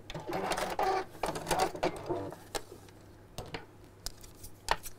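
Sewing machine stitching forward and then reversing across a cushion cover lining, two short rapid bursts of needle clatter up close, followed by quieter clicks and small handling sounds.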